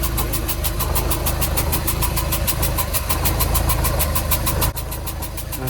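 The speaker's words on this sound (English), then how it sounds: "So we're just going to give this thing a hit on the key and see if it goes." A Mercruiser 470 boat engine in a Haines Signature boat runs loud and close at a fast steady idle with a rapid even pulse, then gives a brief catch or change near the end; no talk.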